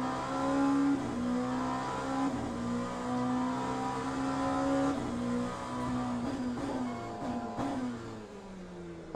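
A race car engine in the racing game Le Mans Ultimate drones and shifts pitch steadily, with harmonic whine rising and falling through gear changes, no voices.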